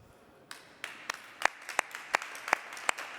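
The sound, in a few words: audience applause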